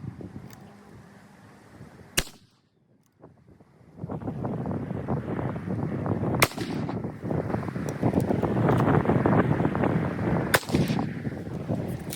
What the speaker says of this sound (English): I'm going to shoot one more so I have 3 good readings